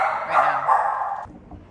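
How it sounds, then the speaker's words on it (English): A brief loud bark or howl from a dog nearby, trailing off into quiet after about a second. "my dogs were barking way too much"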